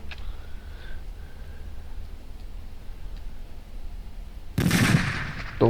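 A loud, sudden Barrett rifle shot in the video game SurrounDead, a sharp broadband blast that cuts through low ambient game noise, followed by a second burst at the very end.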